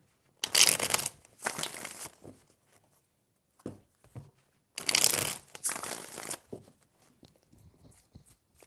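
Tarot cards riffle through a shuffle in quick crisp bursts, three main rounds of dense flapping separated by short pauses, close and fairly quiet with a few softer taps and handling noises between.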